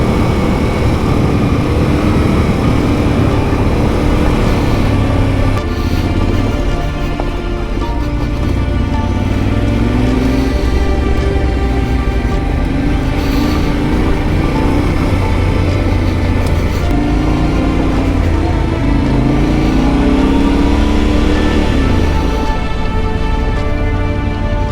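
Yamaha Ténéré World Raid motorcycle ridden off-road on dirt, its engine droning loud and continuous with rising and falling tones as it changes speed, plus wind rush and no talking.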